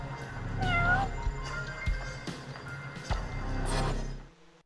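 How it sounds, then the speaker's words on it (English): Cat meowing in the video game Judgment: several loud, close meows and a drawn-out caterwaul over a low rumbling background, then the sound cuts to near silence at the end. "So I hear cat meowing."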